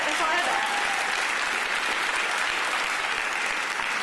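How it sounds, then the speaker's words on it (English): Audience applause at an Olympic and Paralympic flag installation press briefing, a dense, loud, continuous wash of clapping filling the whole stretch, with a faint voice trailing off at the very beginning. "yes, please applaud that."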